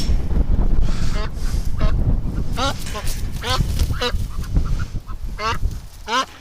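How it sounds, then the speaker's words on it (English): Agitated geese honk repeatedly in loud, close bursts, several calls spread across the moment, with some wind buffeting and a little background chatter. "Oh, the geese are coming. They're mad."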